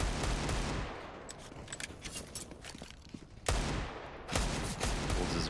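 Rapid rifle gunfire from a CS:GO esports match on the Cobblestone map, close and loud shots in quick bursts with short pauses, a sharp burst returning near the end.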